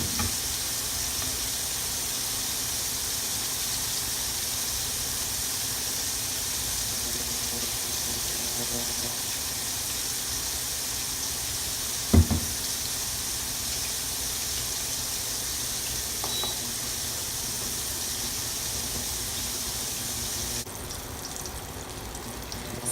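Breaded chicken fries in batches until golden brown, a steady broadband sizzle of hot oil holding throughout with one brief clatter midway.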